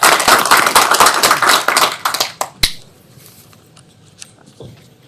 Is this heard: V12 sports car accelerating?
no